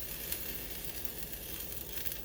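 Onions hit a hot pan while preparing brisket quesadillas, giving a steady, close hiss of frying that carries on evenly without pauses or talk.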